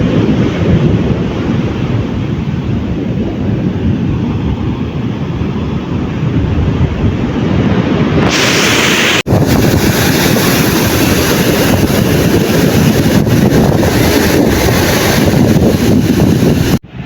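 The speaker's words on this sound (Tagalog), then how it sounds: "ang laki po ng alon" Large sea waves surging up to a seaside house, a loud continuous roar of surf and rushing water with heavy wind buffeting the microphone throughout, growing broader and harsher partway through.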